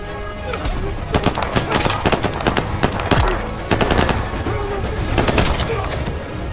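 Gunshots in a forest survival scene, a dense burst of rapid, loud cracks that come in clusters over a rumbling background, with faint bird-like chirps mixed in.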